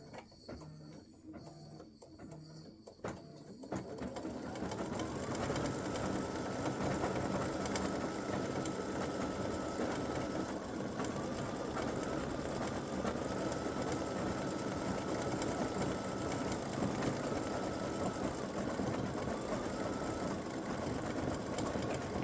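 Embroidery sewing machine stitching an appliqué Christmas gnome design with black thread, starting with a few clicks and then running in a long, steady, close hum of rapid stitches.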